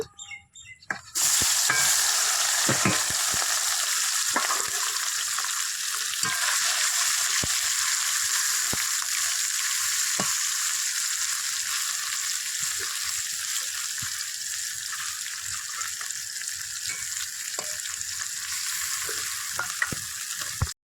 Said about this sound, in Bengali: আর একটু সর্ষের তেল দিয়ে দেবো। আর এগুলো এবার ভেজে নেব।